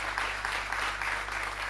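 A crowd at an under-17 pool championship final in Lithuania claps and cheers in a steady, dense wash of applause, moderately loud and unbroken.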